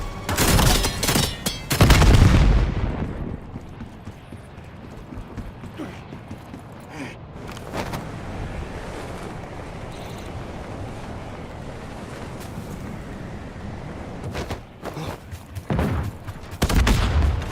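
A frag grenade throw and gunfire in a video game open with a loud, sharp burst of blasts, then fade into a steady windy rumble broken by a few more sharp cracks near the end.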